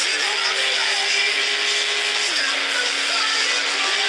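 A car in a car simulator game accelerating to test its speed, the engine tone holding steady then stepping up through a gear change, continuous and fairly loud with no talk.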